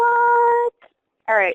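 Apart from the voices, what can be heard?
phone ringing in the background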